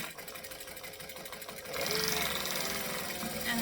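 A sewing machine stitches fabric with a steady mechanical whir that speeds up and grows louder partway through, running up close and without talking.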